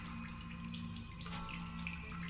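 Running water from a water source in the video game The Solus Project, a steady trickling, tap-like flow that continues throughout, with a brief rush of brighter splashing midway.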